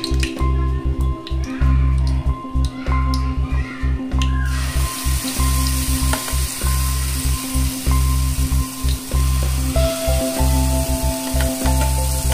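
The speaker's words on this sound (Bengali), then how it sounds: "এবার চলো পেস্টগুলোকে দিয়ে তো প্রথমে এটার মধ্যে দিচ্ছি আমি কাজু বাটা" Cashew paste added to hot oil in a pan for a Bengali vegetarian paneer dish, a sudden loud broadband sizzle bursting in partway through over an ongoing low hum and rhythmic squishy stirring, close up.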